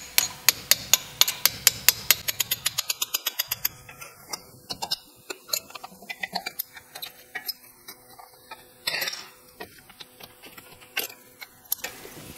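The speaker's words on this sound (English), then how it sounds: "And then punch the pin for the brake pads." A brake pad pin is punched out on a Porsche Boxster, metal striking metal in a fast run of evenly spaced taps. After that come slower, irregular knocks and scraping, all fairly close.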